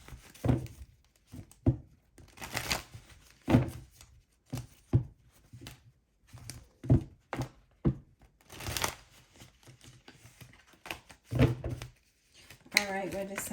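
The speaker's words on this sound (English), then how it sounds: "Let me do a quick shuffle here." Tarot cards being shuffled by hand in quick bursts of riffling and tapping, close and fairly quiet, with a person speaking intermittently between the bursts.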